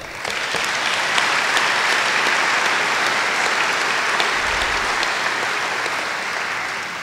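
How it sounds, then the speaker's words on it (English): Sustained audience applause for speakers at a wildfire town hall meeting, loud, dense clapping from a large crowd that holds steady for several seconds before slowly tapering. "Maybe one more time give all of our speakers a round of applause."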